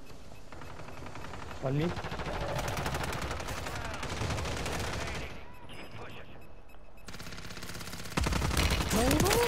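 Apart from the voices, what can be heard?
gunfire in the video game Warzone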